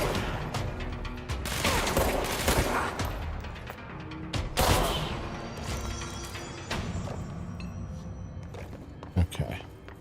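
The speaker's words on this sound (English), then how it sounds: "Oh my gosh, those missiles." In the video game Control, missiles strike with booming blasts, crashes and mechanical clatter. Loud impacts cluster at the start and again near the end, and voices talk over the action.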